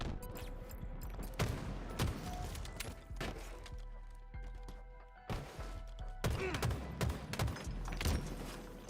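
Gunfire from Halo: Combat Evolved, dense bursts of shots and impacts throughout, with a player speaking over the action.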